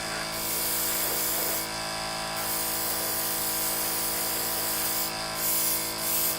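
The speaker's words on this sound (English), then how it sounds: "the airbrush is working very well" An airbrush sprays paint on a scale model car, a close steady hiss of compressed air that swells in short bursts as the trigger is pressed and eased, alone without talk.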